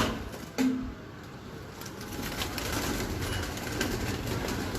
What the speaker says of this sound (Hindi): ये देखें जी, बहुत ही शानदार कबूतर है।